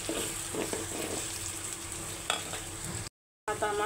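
Onion and ginger paste fry in hot oil with a steady, close sizzle, broken by occasional scrapes of stirring and a brief silent gap near the end.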